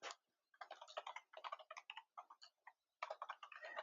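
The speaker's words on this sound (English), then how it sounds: "I'm just quickly typing a response." Rapid bursts of keystrokes on a computer keyboard, clicking in quick irregular runs with short pauses between, close and fairly quiet, with no voices.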